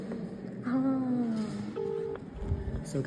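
A phone keypad sounds a short run of dialing tones while a call is placed, with two or three distinct beeps up close and a voice murmuring briefly in the background.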